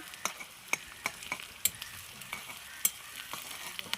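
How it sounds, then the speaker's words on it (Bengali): Spices fry in a pan as a base for country chicken, with a steady quiet sizzle and sharp, regular spatula taps and scrapes against the pan, close by. "এখানটায় দেখো আমি মশলাগুলো ভেজে নিচ্ছি চিকেনটা করার জন্য"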